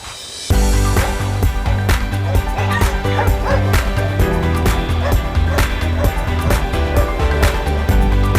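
Several dogs at a hotel's dog area bark and yip continuously and loudly, with overlapping sharp barks and whimpers close by.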